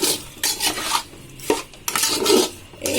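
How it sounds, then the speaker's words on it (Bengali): A spoon scrapes and stirs zorda semai, sweet vermicelli with raisins, bay leaf and sugar, in a metal pan, giving close, continuous rasping strokes with clinks of utensil on metal. "এবার এগুলো দিয়ে আমি খুব ভালো করে নাড়াবো।"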